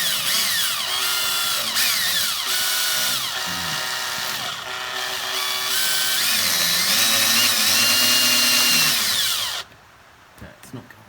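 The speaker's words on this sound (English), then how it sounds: "I want to put a little pilot hole through the rubber." A power drill whines at varying speed as it bores a pilot hole through rubber on an Iseki TU170 tractor driveshaft, loud and close with the pitch rising and falling, then stopping abruptly.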